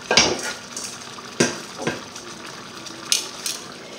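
A metal lid set on a simmering pot of coconut curry chicken, a few sharp clanks and clatters spaced apart, close and fairly loud over a quiet background.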